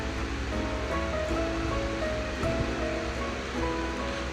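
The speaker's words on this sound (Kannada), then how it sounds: "ಈಗ ಒಣಮೆಣ್ಸಿನ್ಕಾಯಿನ ಹಾಕ್ತಾಯಿದ್ದೀನಿ ಖಾರಕ್ಕೆ ತಕ್ಕಷ್ಟು ಹಾಕೋಬೋದು ಹಾಕಿ ಚೆನ್ನಾಗಿ ಮಿಕ್ಸ್ ಮಾಡಬೇಕು" Garlic and dried red chillies fry in a pan with a soft, steady hiss of hot oil, faint and continuous throughout, with a few light clinks.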